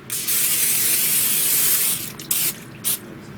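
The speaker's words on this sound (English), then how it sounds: "I'm just gonna sit there and gently just spray my gummy bear mold" A spray bottle hisses onto a gummy bear mold in one long continuous burst, then two short quick squirts follow, close by.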